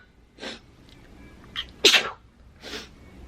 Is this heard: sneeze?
yes